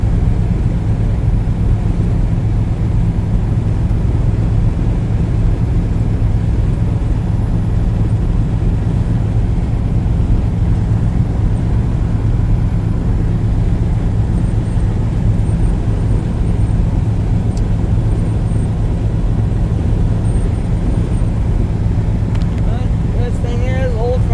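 A 1983 Dodge D150 Ram pickup truck driving, heard from inside as a loud, constant low engine and road rumble, with someone talking over it at times.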